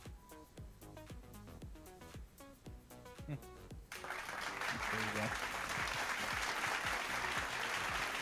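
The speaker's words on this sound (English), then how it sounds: "Polite applause." Polite audience applause swells in and holds steady at a charity gaming event broadcast, following a stretch of rhythmic music with regular beats.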